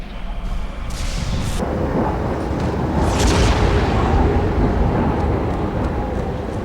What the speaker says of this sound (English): The storm has masked our approach, and it should have their local battle net in disarray.